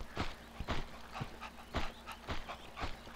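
A dog in a video game gives a series of short, sharp yips and barks in a steady broken rhythm, roughly six bursts over a few seconds, with no talk over them.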